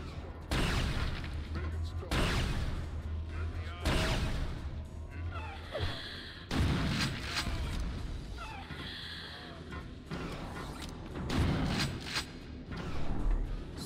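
Repeated rocket launches and explosions from Quake II boom at irregular intervals, loud bursts with rumbling tails over a constant game background, with a voice talking in between.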